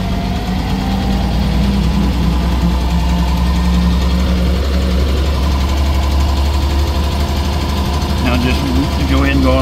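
Engine of a 1929 Chevrolet International Phaeton running steadily with a low, rumbling idle and mechanical vibration, close and continuous as the car begins to pull away, with faint sounds near the end.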